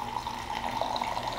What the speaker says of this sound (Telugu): ఇప్పుడు ఇందులో మనం వాటర్ యాడ్ చేసుకుందాం.